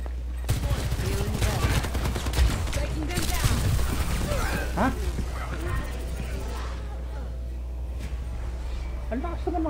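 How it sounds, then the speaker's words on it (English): Rapid, dense bursts of explosions and gunfire-like cracks from a rocket barrage in a mobile video game, loud and continuous over a constant low drone, with game voice lines mixed in. "Rocket barrage incoming."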